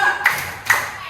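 Two sharp hand claps land about half a second apart, close and distinct against a quiet room.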